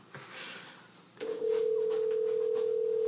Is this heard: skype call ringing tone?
yes